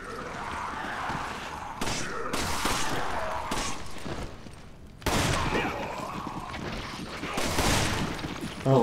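Video game gunfire from Resident Evil 5, with bursts of shots and impacts in a busy, loud mix across the clip, overlapping other game sounds and effects.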